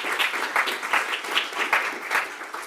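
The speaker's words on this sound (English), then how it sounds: "another round of applause for our presenters." Audience applause for presenters at an Asian American health forum, a sustained round of clapping from a crowd with a rhythmic, rippling texture, moderately loud and close.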